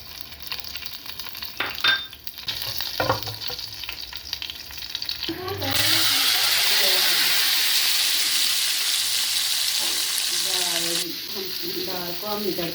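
Cumin seeds hit hot oil in a pan and burst into a loud, steady sizzle partway through, after some clinks and stirring, then keep frying close up.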